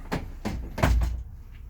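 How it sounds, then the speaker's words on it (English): A school bus door is pulled shut, giving a short series of soft mechanical thumps and knocks that finish in a heavier clunk, close and moderately loud with no talking. "close this door."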